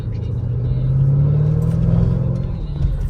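A Lamborghini Urus SUV in comfort mode pulls away at night with a loud, close interior engine rumble that swells steadily and then eases, and someone talks over the motor.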